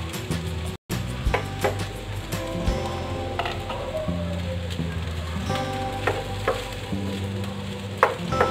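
Cooked rice frying and being stirred in a hot pan for crab stick fried rice, a steady close sizzle with scraping clatter from the spatula, no talking.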